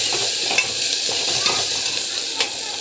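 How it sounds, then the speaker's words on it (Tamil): Ginger paste and salt sautéing in a pan make a steady close sizzle, with a few sharp scrapes and stirring clicks from a utensil, and no talking. "இதுவும் வந்து நல்லா வதக்கி விட்டுக்கோங்க"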